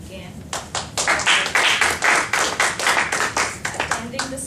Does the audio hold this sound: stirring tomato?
no